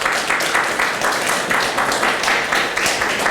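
A church congregation applauds together, giving a steady run of clapping with a light pulsing rhythm that holds for a few seconds, no voices on top.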